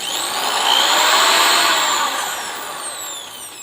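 A KYK impact drill running in reverse, giving a close, loud, steady motor whine with a slight rise and fall in pitch over a few seconds, heard alone.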